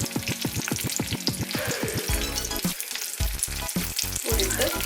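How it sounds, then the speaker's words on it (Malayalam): Dried red chillies and green chillies fry in hot oil with a loud, close, continuous sizzle, broken by stirring scrapes and crackles throughout. "വറ്റൽമുളകും അതിൻ്റെ കൂടെ തന്നെ പച്ചമുളകും കൂടി ഇട്ട് മൂപ്പിച്ചെടുക്കാം."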